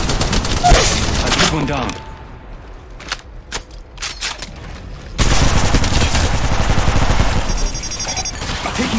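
Weapons fire in a shooter video game, with loud bursts of gunfire filling the start and the second half around a quieter stretch of sharp single shots, while a voice speaks briefly over it.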